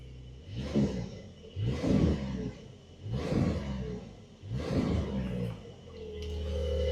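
A Porsche 911 with 473 brake horsepower and an 8-speed PDK gearbox revs four times in a row, each rev swelling up and falling back, before settling into a steadier rising engine note at the end.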